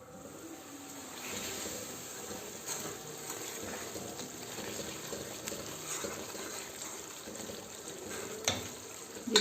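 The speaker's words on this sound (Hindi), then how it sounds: "अब इसको थोड़ी देर हम ढक के पकाएंगे।" Masala cooks in a covered pan on the stove for a chana and masoor daal, giving a faint, steady sizzle and bubbling throughout, with a few small clinks near the end.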